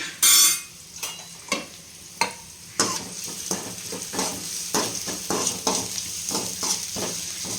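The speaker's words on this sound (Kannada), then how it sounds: "ಆಯಿಲ್ ಸ್ವಲ್ಪ ಬಿಸಿ ಆದಮೇಲೆ ನೀವು ಈರುಳ್ಳಿ ಮತ್ತು ಮೆಣಸಿನ್ಕಾಯಿನ ಫಸ್ಟ್ ಹಾಕ್ಕೊಂಡು ಫ್ರೈ ಮಾಡೋಕ್ಕೆ ಸ್ಟಾರ್ಟ್ ಮಾಡಬೇಕು" Onions and green chillies frying in hot oil, with a continuous sizzle broken by a quick succession of clinking stirs and scrapes in the pan, loud and close.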